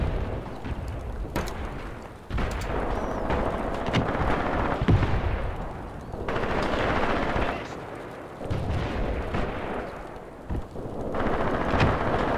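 A small 5 cm mortar fires in the Graviteam Tactics war game, with booming reports and distant explosions that roll out in repeated waves over continuous battlefield rumble and gunfire.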